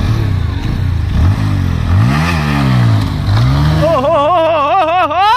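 A Yamaha R15 V4 sport bike revs hard in first gear toward 7,000 RPM for a wheelie attempt, loud and close, with rising engine sweeps and a final sustained high-rev wail.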